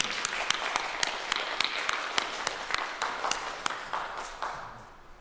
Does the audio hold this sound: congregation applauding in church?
yes